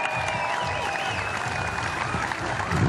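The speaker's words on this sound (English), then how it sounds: "give a big round of applause for our 2021 Australian Women's Champion" An audience applauds a women's champion at a STIHL Timbersports Australian championship, a steady dense clapping from a crowd with music or a sustained tone audible beneath it.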